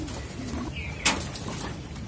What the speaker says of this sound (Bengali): তো দেখেন কবুতরগুলো কি সুন্দরভাবে গোসল করতেছে